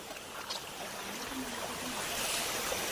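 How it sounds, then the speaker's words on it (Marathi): Water trickling and splashing down between stones at a spot above the Vashishti creek, a steady, fairly faint outdoor rush with a soft burble running under it throughout. "मस्त पाणी पडतंय त्या दगडांमधून. इकडून पाणी असं खाली जातंय."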